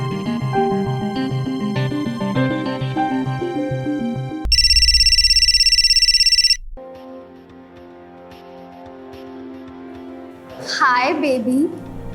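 A phone rings in a home during a Hindi drama scene, a loud electronic trilling tone lasting about two seconds between stretches of music, with a voice rising afterward.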